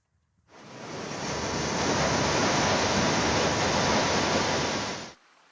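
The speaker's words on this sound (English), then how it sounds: "the gentle sounds of the river flowing beside" The Danube river flows beside a footpath in the gorge near Kelheim, making a loud, steady, even rush of water that swells in, holds for several seconds and then fades out, with no voices.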